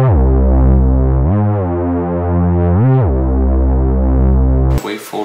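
A thick, buzzing reese synth bass from Arturia Pigments 2 drones with gritty distortion, its tone sweeping and shifting twice before cutting off into a brief noisy burst.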